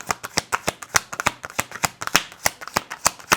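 Tarot deck shuffled by hand in a steady run of crisp card slaps and riffles, close and fairly quiet, with no speech over it.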